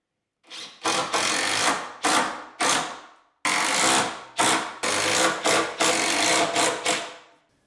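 A power drill drives screws into wooden boards in short, loud bursts, about nine whirring runs close by, each one trailing off as the screw seats, with brief gaps between them.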